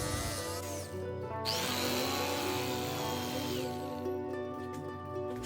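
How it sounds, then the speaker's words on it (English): A jigsaw whines steadily through a 2x6 wood board, a continuous close-up buzzing with slight shifts in pitch as the blade cuts. "Using my jigsaw to cut the portion of the board that I need removed"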